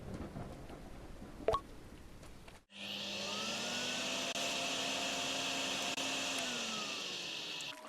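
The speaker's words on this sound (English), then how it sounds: "Grab the water vacuum." A water vacuum in the Drain Simulator video game starts suddenly after a quiet moment, then runs as a loud, steady whirring suction roar that holds for about five seconds.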